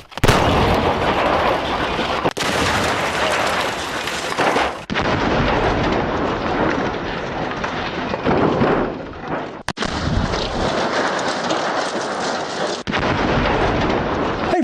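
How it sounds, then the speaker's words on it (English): Grenade blast inside a vending machine in a video game, a run of heavy booming explosive bursts with hard cuts between them, loud and close, echoing rumble trailing off each hit, no voices. "Let's see if we can get some free sodas using a grenade inside the vending machine."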